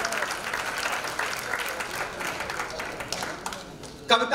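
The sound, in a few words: audience applause for poet Nirmala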